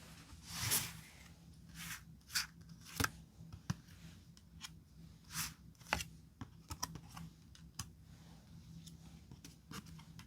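Tarot cards shuffled and drawn by hand, a close, quiet run of crisp riffles, soft slides and sharp slaps that come in uneven bursts over about ten seconds, with no talking.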